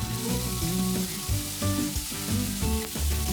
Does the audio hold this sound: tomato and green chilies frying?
yes